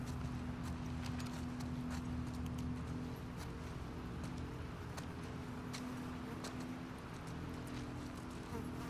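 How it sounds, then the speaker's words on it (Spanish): Horse hooves clop steadily in The Last of Us Part II, set against a constant buzz of insects and ambient outdoor noise, moderately faint with no speech. "Ay, el caballo."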